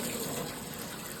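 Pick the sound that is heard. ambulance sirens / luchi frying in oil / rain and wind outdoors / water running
water running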